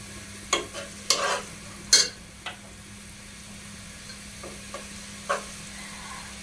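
Ingredients for chicken biryani fry quietly in a pan under a low steady hum. A handful of sharp, scattered ladle scrapes and clicks come close up, with long gaps between them and no talking.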